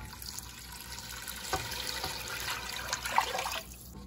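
Beef broth is poured steadily into a pot of onion soup with rice, a continuous moderate stream of splashing liquid lasting several seconds, close and without talk.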